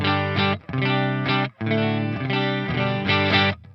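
An electric guitar strums chords through a Line 6 HX Stomp clean amp model with a Cali V30 cab, with a short break between phrases and a slightly gritty, bright tone.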